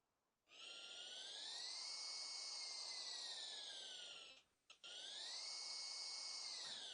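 A loud, steady high-pitched procedural turbo whine sound effect made in Unreal Engine 5 MetaSounds holds with a slight pitch rise and fall, briefly cutting out near the end before resuming.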